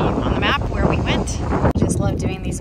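Outdoor wind buffets the microphone on Guemes Island, a steady low rumble that runs under someone speaking throughout.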